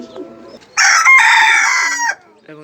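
A large rooster crows once, loud and close, in a drawn-out harsh call lasting over a second, with softer clucking and faint background sounds before and after.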